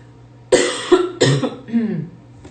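A woman coughs in three harsh, separate bursts over a couple of seconds. The bursts are close and fairly loud, with no speech between them.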